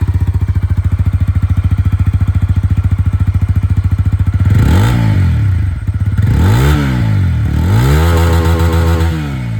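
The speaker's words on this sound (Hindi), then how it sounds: "अब यहाँ पर जो अपाचे है इसकी जो आवाज़ है वो भी सुन लीजिए।" A TVS Apache RTR 160 4V motorcycle with a bullpup exhaust idles with a rapid, even thump, then revs up and down several times in loud, close blips.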